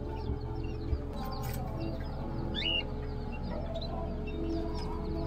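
Chickens and birds with chicks at a crowded street market in Carriedo, Manila, giving scattered clucks and chirps over a constant low hum of market noise.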